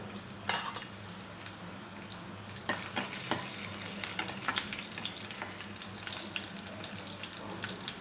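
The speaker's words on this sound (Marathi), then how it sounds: "तेल तापलं की टाकायचं आहे मोहरी जिरे लसूण टाकायचं आहे" Mustard seeds, cumin and garlic fry in hot oil with a steady sizzle and crackle, while scattered spatula taps and clinks against the pan stand out, and nobody talks.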